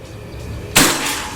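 A single sharp crack from a PCP Predator air rifle fitted with a slug barrel, a sudden loud burst that fades quickly over a quiet background with no talking.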